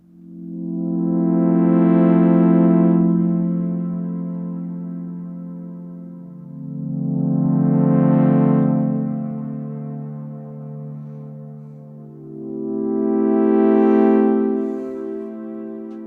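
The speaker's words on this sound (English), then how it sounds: "those long ambient chord sounds totally benefit from some reverb as well" Three long, swelling synth chords from a Vermona Perfourmer synthesizer, each rising and fading in turn with a lush reverb tail, played alone with no voices.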